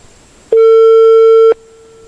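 A telephone gives one loud, steady electronic tone after a number is dialed. The pure tone lasts about a second, then cuts off cleanly into near silence.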